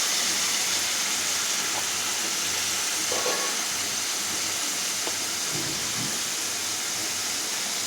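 Potato masala and vegetables sautéing in a pan, a steady bright sizzle and hiss throughout with a few faint clinks of stirring against the pan.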